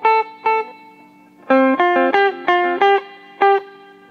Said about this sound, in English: So it's got a really cool reverb.